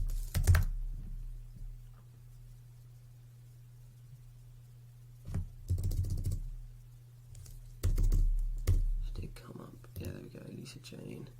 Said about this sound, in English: go to LinkedIn, type in Lisa Jane